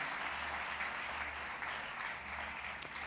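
A church congregation claps for the Lord during a sermon, making a continuous, fairly faint wash of crowd applause with a low hum underneath.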